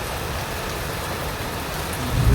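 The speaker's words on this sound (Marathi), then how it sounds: "पाऊस चालूच आहे कंटिन्यू." Heavy rain pours down in a steady, dense hiss that holds evenly throughout, with a low rumble swelling near the end.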